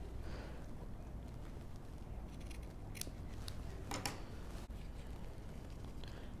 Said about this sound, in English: I can cut off my excess